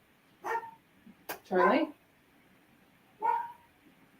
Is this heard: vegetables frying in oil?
no